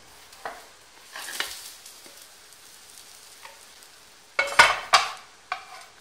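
A Spanish tortilla in a frying pan for tapas, a faint sizzle broken by a few sharp clatters and scrapes of the pan and plate, loudest in a cluster near the end.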